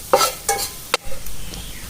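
Onions and chili powder fry in oil in a pan for pav bhaji, with a few scraping stirs of a spatula close by over a soft, steady sizzle.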